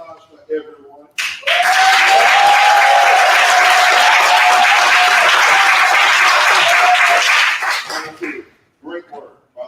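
Sustained applause from an audience for the performers at a playwrights festival staged reading, loud and steady for about six seconds before fading, with brief talk before and after.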